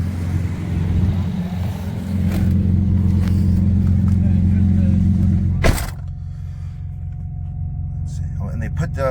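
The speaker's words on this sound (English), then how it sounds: "The exhaust sounds pretty good." The exhaust of a modified 2009 BMW E90 335i with the N54 engine idles with a deep steady rumble close up, swelling briefly before a sharp clunk and settling back down.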